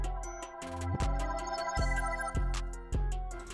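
A reversed accent sample set in a beat, with swelling tones that build and cut off sharply, pulsing in a repeating rhythm over a deep low end, loud and alone.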